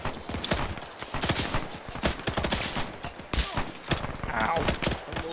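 Gunfire in Arma 3 during a WWII Operation Neptune campaign: rapid, dense bursts of rifle and machine-gun shots crackle continuously at close range, with some faint voices underneath.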